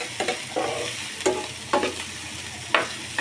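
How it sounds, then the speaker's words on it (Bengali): Onions fry in oil for a dried fish curry, a steady soft sizzle broken by several distinct stirring scrapes spaced about half a second to a second apart, close and moderately loud. "একটু ভেজে নিচ্ছে"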